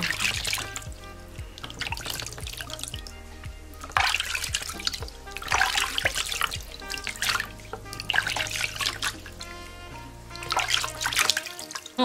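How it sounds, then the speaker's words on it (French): Warm water splashes and trickles while skin in the underarm area is rinsed, with repeated drips and pours in uneven bursts over a steady tonal background, close and moderately loud. "Et vous rincez. Avec de l'eau tiède."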